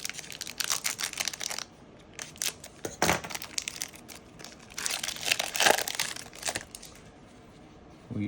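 Foil wrappers on Upper Deck Series Two 2025-26 hockey card packs are torn and crinkled nearby, with repeated ripping and rustling bursts and a sharp tear midway.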